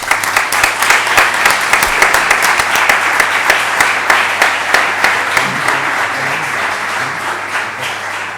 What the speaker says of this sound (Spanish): Bueno, aplauso, ¿no?